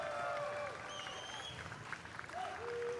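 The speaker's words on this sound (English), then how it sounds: "You hear the crowd." A crowd at a Classic Tetris World Championship tournament cheers and applauds in a faint, continuous wash of clapping and voices, with tonal whistles or shouts rising above it.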